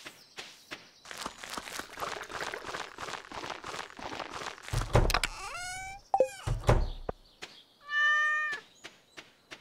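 A cat in Stardew Valley meows several times, clear and close, after a stretch of quick in-game footsteps. A final drawn-out meow follows.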